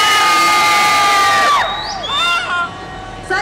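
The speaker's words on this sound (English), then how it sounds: "Side one, scream." One side of a crowd at a car-audio tuner event screams and cheers loudly in a shouting contest, a sustained high-pitched roar that drops off after a second and a half into scattered trailing shrieks.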